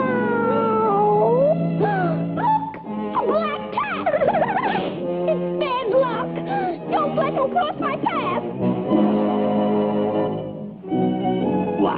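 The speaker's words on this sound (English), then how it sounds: "He's just a harmless cat which wants to make friends." A cartoon cat in a Popeye short meows and yowls in a run of wavering, pitch-bending cries mixed with animated vocal sounds, loud and close over about twelve seconds.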